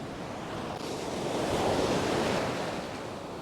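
Ocean surf breaking on a beach rushes in, a broad roaring wash that swells to a peak and eases back, with wind in the background.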